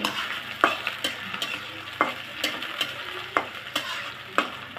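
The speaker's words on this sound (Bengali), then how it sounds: "পেস্টের সাথে একটু ভেজে নিচ্ছি" Shrimp fry in a spice paste for a banana-stem curry, giving a steady low sizzle broken by regular scraping stir strokes roughly every second, close and with no voices.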